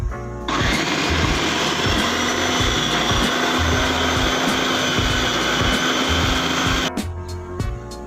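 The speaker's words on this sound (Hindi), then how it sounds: "अब इसको मैं ना 2 मिनट के लिए चॉपर में डाल रही हूँ ताकि ये मसाले अच्छी तरह मिक्स हो जाए।" An electric chopper whirs steadily for about six seconds while mixing minced meat with spices for kebab, starting and stopping abruptly, loud and close with no talking.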